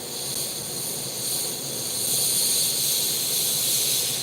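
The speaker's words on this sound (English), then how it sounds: "But this airbrush is terrific. I mean, hardly any overspray." A steady airbrush hisses as it sprays paint onto a 1944 tiger scale model, a continuous airy spray that swells slightly midway and holds close and even throughout, with no voices.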